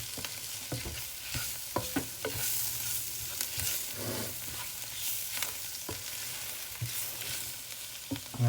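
Food frying in a pan for a spicy roast lamb dish is stirred, giving a steady close sizzle broken by repeated scraping knocks of the spoon against the pan.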